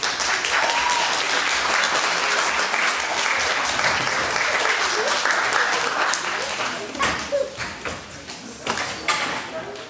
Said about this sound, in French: Je pense que ça vaut une bonne main d'applaudissement.